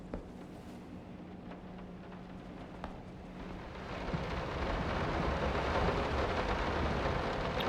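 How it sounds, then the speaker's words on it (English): Rain in the video game Layers of Fear: a steady hiss of rainfall that swells noticeably louder about halfway through and stays dense, with no talk. "rain is so much louder."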